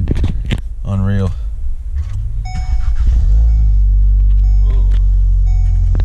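A BMW 740i is started: the starter whirs, then the engine catches and settles into a loud, deep, throaty idle rumble, recorded from inside the car, with a brief voiced exclamation early on.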